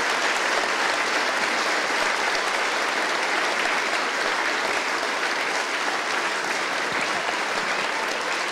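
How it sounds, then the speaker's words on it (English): An audience at a children's school production of The Wizard of Oz gives sustained, even applause, a dense wash of clapping held steady from start to finish with no voices over it. "Give them a big, big round of applause."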